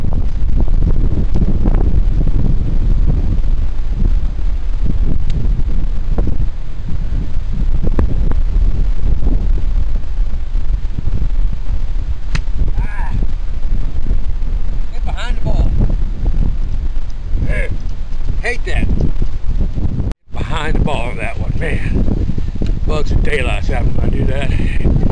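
Gusty wind buffets a microphone on a golf course, a loud, rough rumble that rises and falls throughout, with people talking over it.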